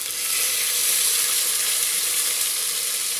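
Small onions and tomato frying in a pan for a quail gravy, giving a steady, close, loud sizzle that holds unbroken throughout, with no talking.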